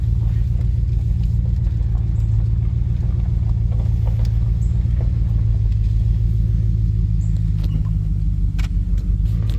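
A truck engine fitted with JBA shorty headers idles with a steady, loud low rumble and a slightly choppy pulse throughout, close up with no talking.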